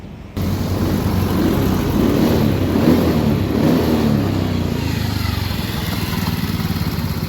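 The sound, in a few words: Honda Beat FI motorcycle engine revving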